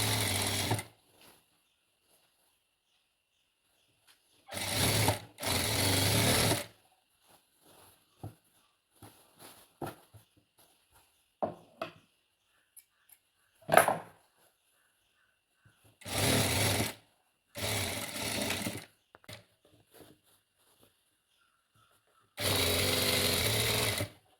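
A sewing machine stitches a parallel band on a pair of pants in several short, loud bursts of fast rattling, separated by quiet gaps with faint handling clicks.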